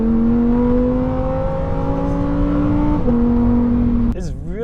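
Lamborghini Huracan STO engine driving on a race track, a steady loud droning harmonic tone that climbs gradually, dips at a gear change near three seconds, then drops and wavers at the end.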